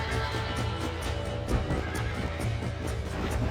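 A horse whinnies and gallops in Red Dead Redemption on PC, with rapid rhythmic hoofbeats thudding close and steady under a loud neigh, set against game ambience.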